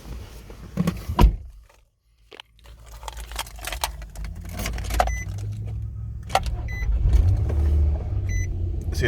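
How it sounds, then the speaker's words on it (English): A one-owner 2013 Nissan Xterra 4WD with a V6 engine and about 122,000 miles cold-starts: a brief clatter, a short pause, then the engine catches and settles into a steady, close low idle rumble that builds slightly. "we're gonna give it a cold start"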